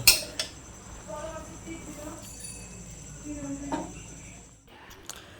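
Cooked prawn malaikari is spooned from the pan into a bowl, giving a few light metallic scrapes and clinks of a spoon against cookware, with a voice speaking quietly around them.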